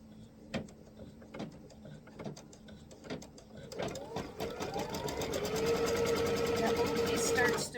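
A sewing machine stitches two quilt fabric pieces placed right sides together, first as scattered clicks and short runs, then settling into a steady, close, continuous whir that builds in loudness toward the end.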